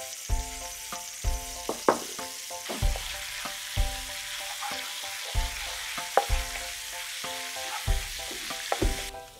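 Oil and a clear-oil hotpot base with bean paste fry in a pan over medium-low heat, giving a steady close sizzle broken by regular rhythmic scrapes and stirs of a utensil against the pan.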